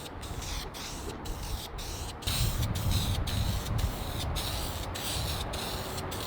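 A spray paint can hisses outdoors in a series of bursts, some short and some longer, with brief gaps between them and wind noise underneath.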